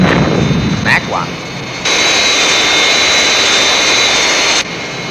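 A jet aircraft engine roars during takeoff, a loud, steady rushing whine that swells partway through, with short bursts of speech over it.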